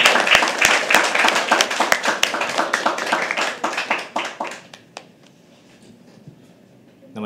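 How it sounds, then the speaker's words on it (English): An audience applauds at a live poetry open mic at The Habitat, with dense clapping close by that thins out and dies away after about four seconds, leaving a quiet room. "guys. Keep clapping."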